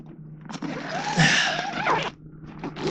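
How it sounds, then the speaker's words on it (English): A tent zipper drawn closed in one long rasping pull lasting over a second, close and clear, with brief rustling before and after. "Close it up if my zipper works."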